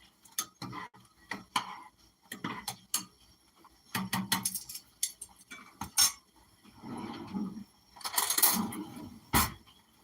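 A utensil stirs cooked beans in a pot for a steak, rice and beans meal, giving a run of sharp, close clinks and scrapes in uneven bursts, with no voices.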